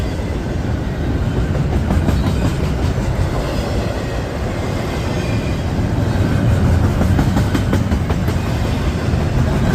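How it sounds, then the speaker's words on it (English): A Norfolk Southern intermodal freight train rolls past close by, a loud, steady rumble of wheels with rhythmic clickety-clack from passing cars and no voices. "Good first train for the day. Norfolk Southern intermodal."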